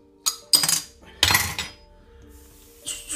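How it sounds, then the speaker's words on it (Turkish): A bottle of cold soda opened in a kitchen gives a few sharp close clinks and knocks, then a short fizzing hiss, with quiet pauses between and no talk. "Soda açalım."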